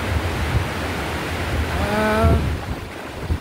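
Steady roar of strong wind and rough sea water off the coast of Changhua, Taiwan, a constant noisy wash with a brief tonal whine partway through.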